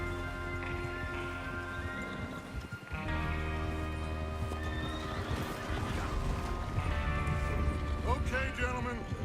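A horse neighs loudly over rhythmic hoof clip-clops in Red Dead Redemption 2 on PS4, with a second whinny near the end and faint mechanical clatter in the background.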